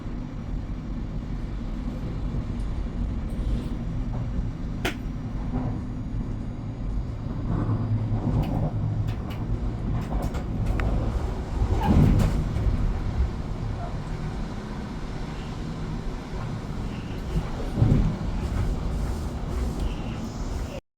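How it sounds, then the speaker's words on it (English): A steady low rumble fills a moving train carriage on the way to Vienna, with constant rolling noise, occasional clicks and knocks, and a few faint distant voices underneath. "So we're on the train on time, so we're all good to go."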